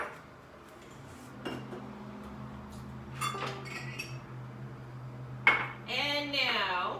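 A spoon clinks against a big glass while a ginger drink mixture is stirred, giving sparse bright chinks and ringing taps over a quiet background.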